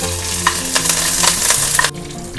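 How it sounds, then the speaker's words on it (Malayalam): Mustard seeds and curry leaves, with dried red chili, sizzle in hot coconut oil for a Kerala tempering. A loud, crackling fry with sharp pops and stirring scrapes runs throughout, then drops off abruptly near the end. "ഇനി ഇത് താളിക്കാൻ വേണ്ടി ഒരല്പം വെളിച്ചെണ്ണ ചേർക്കുന്നുണ്ട്. ഇതിലോട്ട് ഒരല്പം കടുക് പൊട്ടിക്കുന്നുണ്ട്."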